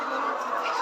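Layer hens on a poultry farm produce a brief, dense burst of overlapping clucks and chatter from many birds close by.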